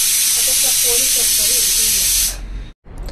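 Steam hisses loudly and steadily from a small pressure cooker's whistle for about two seconds, then cuts off abruptly, followed by quieter kitchen noise.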